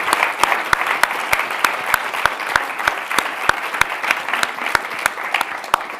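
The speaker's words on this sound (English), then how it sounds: "Would love if we could give Kellyanne and Donna a big round of applause" Applause from the audience at a debate on the press and the 2024 election: steady, close clapping with regular sharp claps punctuating it, continuing throughout without speech.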